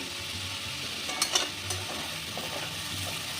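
Chow mein vegetables seasoned with black pepper and salt are stirred in a pan, giving a soft, steady sizzle with a few scraping strokes of the spatula. No one speaks.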